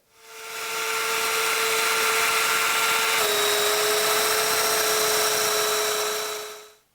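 A domino joiner cuts mortises into wooden bed parts with a steady high whine that spins up, holds for several seconds with a slight pitch drop midway, then winds down, close and loud.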